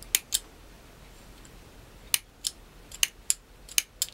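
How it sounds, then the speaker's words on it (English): Sharp line snippers cut a fishing line tag end while tying a nervous feeder rig: two quick crisp snips at the start, then a run of several more sharp clicks spaced out near the end, close and clear in a quiet room. "and then you just snip off the tag end"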